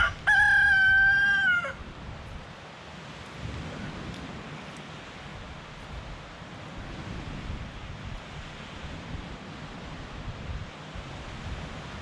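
A rooster crows once, loud and close, at the start, then rain and a soft wash of outdoor noise continue alone on an Alaska homestead.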